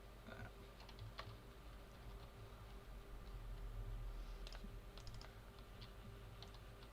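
Typing on a computer keyboard produces faint, irregular clicks and small bursts of keystrokes over a steady low hum.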